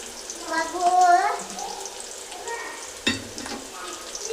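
Onions, dry red chillies and curry leaves fry in a pan, crackling and sizzling with stirring scrapes while a voice speaks intermittently over the cooking.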